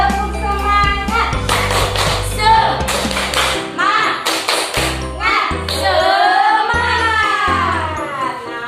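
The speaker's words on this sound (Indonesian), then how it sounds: "Ayo, kita tepuk semangat dulu." A class of children in Indonesia doing a rhythmic spirit clap, tepuk semangat, in bursts of patterned claps with sung or chanted voices between them, close and loud throughout.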